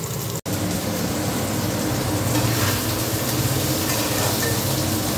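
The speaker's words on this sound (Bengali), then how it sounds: "জিরে ফোড়ন দিয়ে পটলটা ফ্রাই করে নিচ্ছি" Pointed gourd (potol) frying with cumin seeds in a pan gives a steady, close, continuous sizzle for the whole stretch, with no talking.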